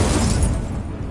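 A Confringo spell explodes in Hogwarts Legacy as one loud, rumbling, low blast. It holds steady for about a second and then fades slightly.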